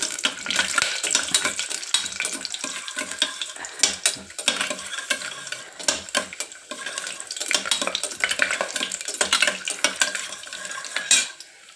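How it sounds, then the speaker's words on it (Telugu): Onion frying in a pan with cashews and dried chillies, a steady sizzle broken by frequent scraping and clinking stirs of a metal spoon against the pan throughout. "కట్ చేసుకున్న ఒక చిన్న ఉల్లిపాయ మీడియం సైజు ఉల్లిపాయ వేగింది కదా"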